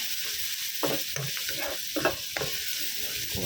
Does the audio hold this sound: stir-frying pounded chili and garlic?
yes